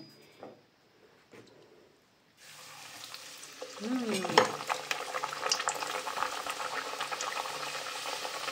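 Puri dough hits very hot oil with a loud, bubbling sizzle that swells after a brief quiet start and keeps crackling steadily in a home kitchen.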